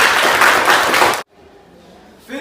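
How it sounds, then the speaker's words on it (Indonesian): An audience at an Indonesian church youth gathering claps in a dense, loud burst of applause that stops abruptly after about a second, followed by near silence and a brief sound at the end. "Tepuk tangan lagi."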